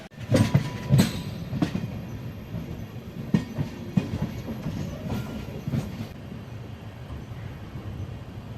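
The Trichy–Tambaram Intercity Express rumbles along the rails with rhythmic clickety-clack beats from the wheels, steady and fairly close, with no talking.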